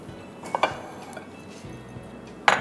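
Spoon clinking against a pot or bowl while melted butter is stirred into hot sauce for buffalo chicken, a few sharp metallic knocks scattered over quiet kitchen background.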